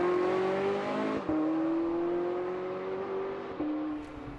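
A Porsche 918 hypercar driving a mountain pass, its engine holding a steady tone heard from inside the cabin, with two brief breaks as gears change and the pitch resets, no talking.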